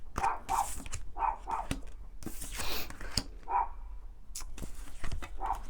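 A dog indoors barks and yips in short bursts, repeatedly and fairly close, with small whimpers between the barks and no speech over them.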